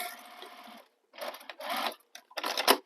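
A sewing machine topstitches over pressed-open seams on a bag, running in four short close bursts of rapid, steady stitching separated by brief pauses.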